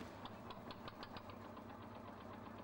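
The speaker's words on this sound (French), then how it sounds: "le tuyau est alimenté par ce type de moteur" A motor feeding a diving air hose runs at a steady, knocking idle. It is a low, even drone with faint ticking on top, heard at a distance and without any voices.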